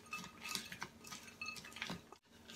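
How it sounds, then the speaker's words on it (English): Keto granola ingredients being mixed in a bowl, with soft scraping and light clinking of a utensil against the bowl throughout, close and fairly quiet, with no talking. "All right, so we'll give that all a mix."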